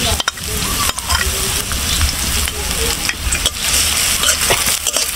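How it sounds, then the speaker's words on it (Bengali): Chopped onions fry in hot oil in a wok with a loud, constant sizzle, broken by occasional scraping and knocking strokes as they are stirred. "তেল গরম হয়ে গেছে, এখন আমি পেঁয়াজ কুচিগুলো দিয়ে দেব"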